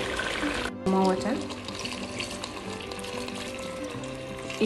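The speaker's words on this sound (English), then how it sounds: "So now put in some water." Water poured into a cooking pot previously used to steam steak, with cabbage and stock cube added; a broad running, splashing wash fills the clip steadily at close range, with a brief louder burst near the start.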